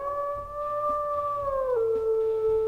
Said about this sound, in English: That howl sounds so distant and almost like